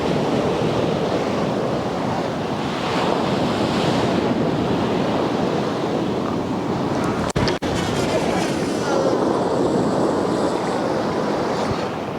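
Strong wind and rolling surf on Withernsea beach on a cold day, with a steady loud roar of waves and wind buffeting the microphone throughout and a brief handling knock partway through.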